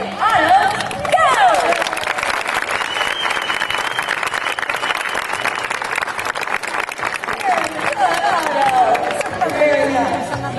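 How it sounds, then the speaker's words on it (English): Crowd at a SeaWorld bird show applauding steadily for about ten seconds, dense clapping mixed with cheers and a presenter's voice over the top. "give him a big round of applause"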